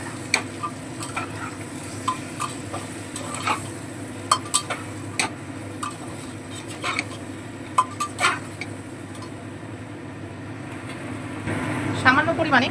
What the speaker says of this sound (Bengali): সমস্ত মশলাগুলো খুব ভালোভাবে মিশিয়ে নেব।